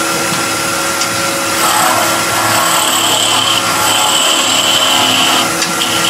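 Wood spinning on a lathe while a small skew chisel cuts into it, giving a steady, loud, continuous whirring hiss with a shifting scraping tone.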